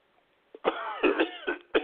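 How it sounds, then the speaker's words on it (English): A rough, hacking cough burst lasting over a second, several raspy pulses close to the listener, ending with a final sharp cough. "I still got problems with a cough and voice"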